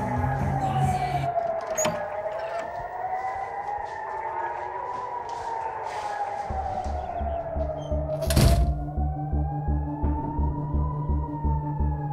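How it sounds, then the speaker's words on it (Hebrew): An alarm siren wails in a slow rising and falling sweep throughout, loud and continuous, with a low rhythmic pulsing beneath it and a couple of sharp thuds. "דנה, צי כבר, יש אזעקה"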